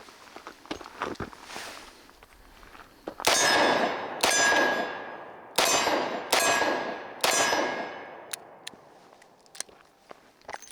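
Five sharp gunshots from a Smith & Wesson Model 642 J-frame revolver firing .38 Special +P rounds, each followed by a ringing steel clang, spaced about a second apart, with faint clicks and footsteps before and after.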